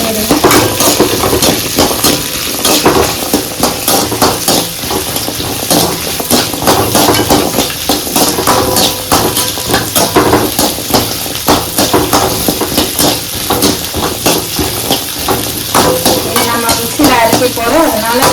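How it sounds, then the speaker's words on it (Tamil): Small shallots frying in oil for mushroom kulambu, a loud, dense sizzle with constant rapid stirring and metallic scraping of a ladle against the pan, close and unbroken for the whole stretch. "சின்ன வெங்காயத்தை எண்ணெயில் நல்லா வதக்கிடுங்க."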